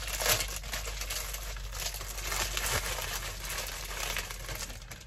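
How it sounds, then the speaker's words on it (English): Thin plastic bag from a 2019 US MRE being crumpled by hand, giving continuous loud crinkling and crackling close up for several seconds. "no matter how much you crumple it up, it just pops right back to its original form"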